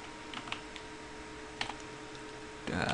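Keyboard typing while writing Java code: scattered clicks and short bursts of keystrokes, close and fairly quiet, with a louder flurry of rapid key presses at the end.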